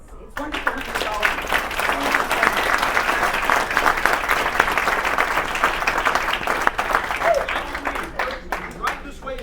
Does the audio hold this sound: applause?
yes